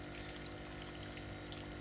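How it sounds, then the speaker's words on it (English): Water churns steadily in tanks lining a bait shop wall in the game Kentucky Route Zero, a continuous bubbling, pump-like wash with no breaks. "Left wall is lined with churning tanks of water."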